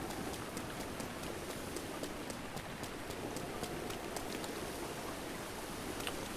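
Steady rain falling in Zelda: Breath of the Wild, a dense even hiss across the whole stretch with faint rhythmic footstep-like taps underneath, no voices.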